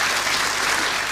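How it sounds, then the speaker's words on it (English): Studio audience applause on a comedy panel game show, steady and dense throughout the short burst, with no talking over it. "Applause, actually"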